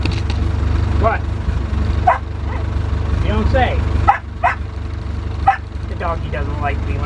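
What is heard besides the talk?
dog barking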